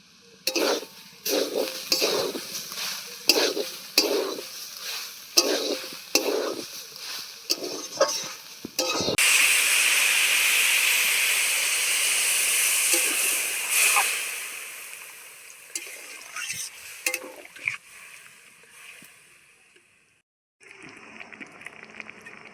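Turmeric and chilli powder being stirred in a frying pan with banana stem, rhythmic scraping strokes of a utensil against the pan, followed by a loud sustained sizzle that gradually settles into softer stirring and clinks.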